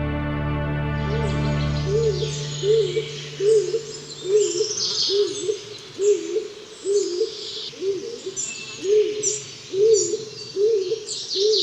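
A boreal owl at its nest with chicks in a tree hollow gives repeated soft hooting calls in a steady rhythm, mixed with higher chirps and rustling, close by and fairly loud.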